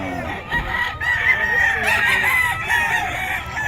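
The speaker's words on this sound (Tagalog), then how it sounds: "Gulo ng manok." Overlapping rooster crows ring out close by at a chicken market in Bocaue, layered over steady clucking and a noisy flock in the background.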